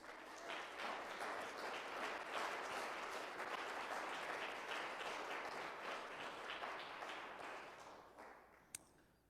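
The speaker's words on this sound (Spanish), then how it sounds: "¿Le quiere dar un aplauso a nuestro Dios?" A church congregation applauds in sustained, dense clapping that holds steady for several seconds, then thins and fades toward the end, heard from a moderate distance with no talk over it.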